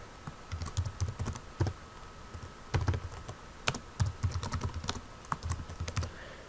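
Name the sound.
typing a comment on a computer keyboard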